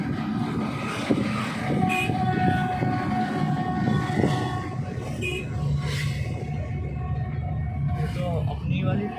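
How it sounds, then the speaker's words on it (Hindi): A train rolls across a bridge in Kanpur with a steady low rumble and rattle, heard from nearby, while people talk over it. "वो जा रही ट्रेन"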